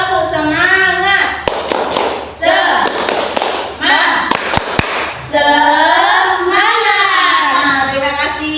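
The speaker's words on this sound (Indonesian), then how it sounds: "Tepuk semangat." Students in a classroom do a rhythmic 'tepuk semangat' spirit clap: sharp patterned hand claps mixed with loud chanted group voices, alternating between clap bursts and sung calls.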